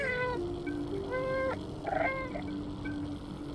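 A cat in the Stray video game meows several times in quick succession, the calls loud and near over a steady ambient background.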